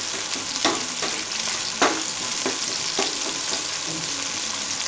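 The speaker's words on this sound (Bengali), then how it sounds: "হিটটা মিডিয়ামে রেখে পেঁয়াজটা ফ্রাই করে নেব।" Chopped onion fries in a pan over medium heat, giving a steady close sizzle with a few sharp crackles and spatters scattered through, and no voices over it.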